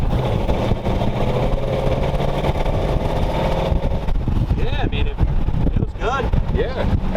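A 1932 roadster's engine hums steadily at low pitch with rushing wind during a test drive, while voices talk over it throughout.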